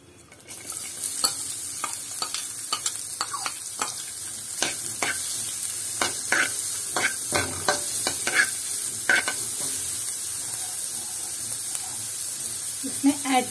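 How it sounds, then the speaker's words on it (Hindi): Chopped onion and cumin seeds sauté in a pan with a steady, close hiss of frying, broken by many quick scraping and stirring strokes at an irregular rhythm. "इनको अच्छी तरह से सॉटे कर लेंगे।"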